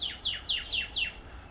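Small birds chirping outdoors beside a portable garage, five quick descending chirps in an even rhythm, close and clear.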